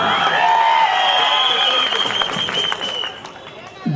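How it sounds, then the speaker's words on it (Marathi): Audience applause and cheering at a public political rally in Dhule, a dense crowd clapping loudly and steadily, thinning a little toward the end, with a voice talking over it. "आवाज आवडली तर टाळी"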